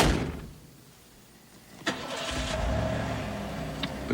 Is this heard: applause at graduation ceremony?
no